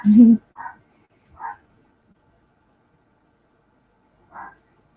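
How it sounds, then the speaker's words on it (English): A small dog gives a few sharp yips, spaced apart by long silences, the first one loudest and closest. "And barks are going to be heard."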